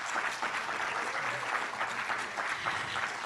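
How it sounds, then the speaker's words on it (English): Audience at a film festival closing night applauds steadily, a dense wash of clapping filling the room at an even level for a few seconds, with no talk over it. "So with a big round of applause,"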